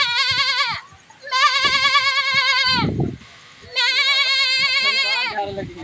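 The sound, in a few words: person imitating a goat bleating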